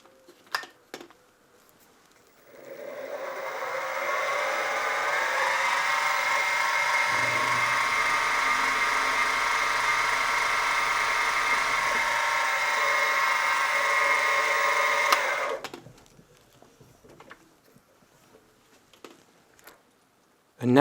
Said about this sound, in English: So what I need to do first of all is centre drill.